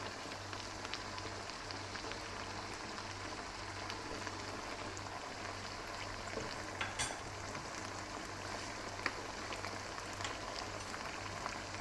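Rice frying in a pan as chili sauce is added, a faint continuous crackling sizzle with light stirring ticks, steady and unaccompanied by voices.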